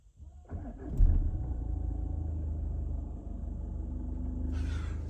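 A Volkswagen Passat engine that had sat unused for about a week cranks briefly and catches, then settles into a steady, low rumbling idle close by, with a hiss rising near the end.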